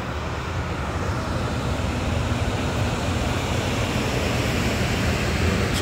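A waterfall at Superior Falls near a power plant spillway roars as a steady, dense broadband rush, continuous and fairly loud with no breaks.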